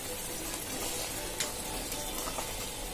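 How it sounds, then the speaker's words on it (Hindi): Masala with a pinch of salt stirred in a frying pan, a steady close sizzle with soft scraping strokes running throughout. "हमने नमक लिया है थोड़ा सा स्वाद के मुताबिक और उसे मसाले में अच्छे से मिला लें।"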